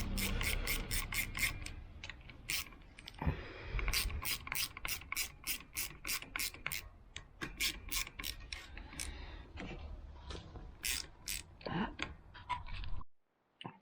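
A ratchet wrench tightens clutch cover bolts on a Kawasaki Ninja 400 in a run of rapid, close clicking bursts. Short pauses break the bursts, and the clicking stops near the end.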